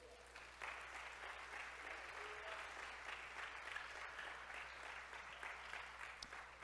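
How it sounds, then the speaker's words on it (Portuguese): A church congregation applauds continuously, a dense steady wash of clapping held at an even level from start to finish, with no speech over it. "Dê um grande aplauso ao Senhor."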